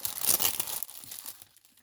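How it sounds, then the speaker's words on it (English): Plastic bags holding napkins and twine crinkle and rustle loudly up close, a dense burst of crumpling that eases into softer, intermittent crinkles. "Excuse the rustling."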